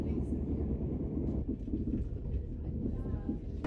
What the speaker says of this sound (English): And now, we arrive into Manchester Piccadilly, bang on time, to end off a really nice train journey.